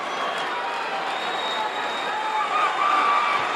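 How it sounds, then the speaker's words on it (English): A Houston wrestling arena crowd roars and cheers in a steady, loud wash of voices, with a commentator talking over it. "And this crowd is screaming their advice to"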